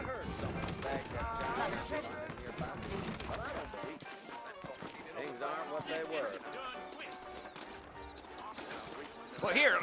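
Horse hooves clip-clop on a trail in the video game Red Dead Redemption, a rhythmic trot heard under ongoing character dialogue and background game sound.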